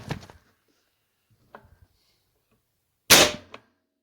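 A single sharp crack from a Hatsan Flashpup .25 air rifle firing JSB Exact pellets, close and loud after a quiet stretch with a few faint earlier knocks, followed by a short after-thud.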